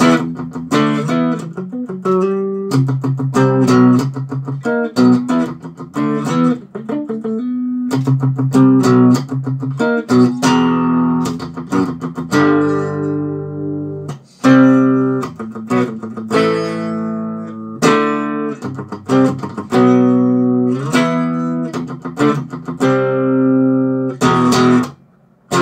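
Clean electric guitar without distortion plays chugging riffs that are usually heard distorted, in choppy, rhythmic bursts of chords and short runs with small gaps, close and unaccompanied.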